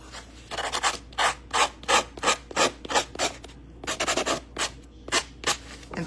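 A hard file rasps back and forth along the edges of paper scraps cut for a patchwork craft, about fifteen quick close rubbing strokes in uneven bursts with a brief pause midway.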